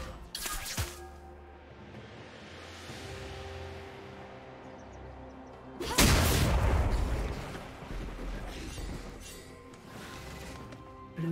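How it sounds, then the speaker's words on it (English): A turret destroyed in a League of Legends match, heard as a sharp crack followed a few seconds later by a loud, roaring crash and rumble that fades out over game ambience. "Blue team's turret has been destroyed"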